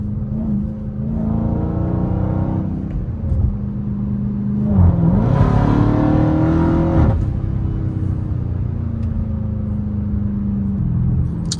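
Dodge Hellcat driven through city streets, its supercharged engine droning steadily with a rising whine and crackling exhaust pops during a surge of throttle midway, then settling back to a loud rumbling cruise.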